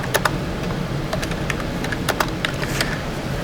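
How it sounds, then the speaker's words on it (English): Keys tapped on a computer keyboard in scattered, uneven clusters of crisp clicks, close up over a low room hum, with no talking. "So go ahead and type that up here in the top right, left-hand corner."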